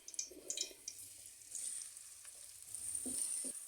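Onions frying in ghee in a pan for a methi and potato dish, a faint, steady hiss of sizzling with a few soft clinks of stirring, heard alone.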